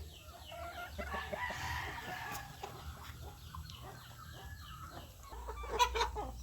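Darag native hens in a backyard cage cluck steadily up close, with a rooster crowing in the mix and a louder burst of calls near the end, no talk over them.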